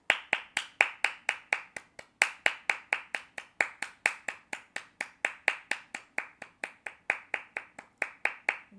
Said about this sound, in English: Can we give a round of applause for Haji Wright though?